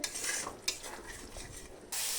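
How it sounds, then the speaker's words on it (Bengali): Spice masala frying in hot oil for a vegetarian cabbage dish, a close, quiet sizzle broken by a few utensil scrapes and clinks against the pan, with no talk. "এখানে আমার মশলাটা খুব সুন্দর করে ভাজা হয়ে গিয়েছে"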